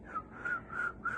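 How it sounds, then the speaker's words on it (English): A person whistles a simple tune, three clear sustained notes rising and falling with short pauses between them, close and fairly soft, with no talking. "Suddenly he started whistling."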